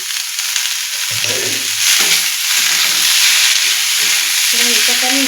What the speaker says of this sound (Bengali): এরপর আমি এই সবজিগুলো এর মধ্যে দিয়ে দেবো।